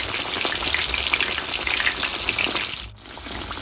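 Basa and catfish fillets fry in a pan of hot oil with a loud, close, continuous hissing sizzle that briefly dips near the end, then picks straight back up.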